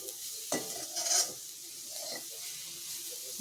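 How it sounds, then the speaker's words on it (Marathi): A jaggery mixture for modak is stirred in a hot pan, giving continuous close sizzling with scraping strokes of the spoon. "आणि ह्याला पुन्हा मिक्स करत राहायचं आहे"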